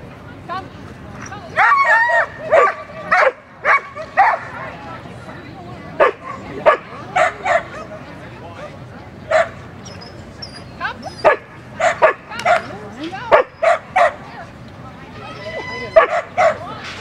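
A dog barks, yips and whimpers in repeated bursts, loud and close, with people talking around it at a dog event.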